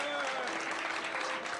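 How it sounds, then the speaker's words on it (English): Crowd at a Warcraft III gaming tournament applauds, a dense, even wash of clapping that holds steady for a moment with a faint voice threading through it. "Give a big round of applause."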